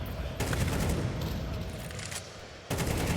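Gunfire in Counter-Strike 2 on the Inferno map at a pro match, a wall bang shot through cover: dense bursts of rapid shots at steady loudness, broken by a short quieter stretch before the firing resumes.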